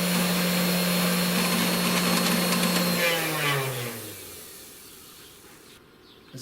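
A DIY mini CNC machine's spindle motor whirring loudly with a steady high whine, then spinning down with a falling pitch as it slows and fades.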